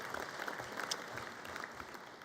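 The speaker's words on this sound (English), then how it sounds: "Please give yourselves a round of applause." An audience at a football foundation alumni awards ceremony claps in steady, dense applause, fairly distant and soft, continuing without pause.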